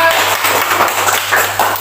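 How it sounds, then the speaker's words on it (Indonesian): A group of schoolchildren in a classroom claps hands together, a dense, loud, close patter of many overlapping claps lasting under two seconds. "Ya, tepuk tangan."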